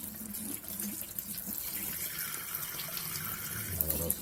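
Hot water runs steadily from the tap of a small instant electric water heater into a sink, a continuous close splashing stream with no voices.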